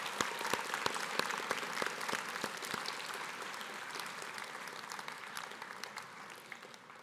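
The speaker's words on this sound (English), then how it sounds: "Grads, let's have a round of applause for all the family members who have supported you over the years" Graduating students and guests at a Lord Tweedsmuir Secondary commencement ceremony applaud supporting family members; distinct sharp claps open the sound, then a broad crowd applause swells and gradually fades toward the end.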